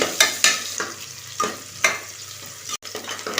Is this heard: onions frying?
yes